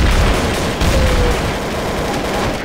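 Gunfire from several players at once in the video game Trouble in Terrorist Town, a loud, dense barrage of overlapping shots that runs without a break for almost three seconds.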